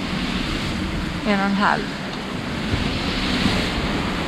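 Steady rush of sea waves and strong wind, around 20 knots, aboard a sailboat on the Ionian Sea between Malta and Zakynthos; constant roaring noise with a brief spoken voice over it.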